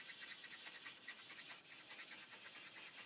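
Felt-tip marker blending colour across card stock, a continuous scratchy squeak with rapid back-and-forth strokes, close and fairly quiet.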